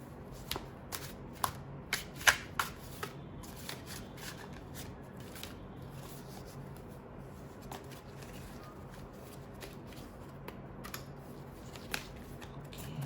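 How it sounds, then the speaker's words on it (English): A tarot deck is shuffled by hand in soft, uneven card clicks and flutters that run quietly throughout, with a few sharper snaps near the start and no speech. "Some of you are having anxiety when I'm shuffling"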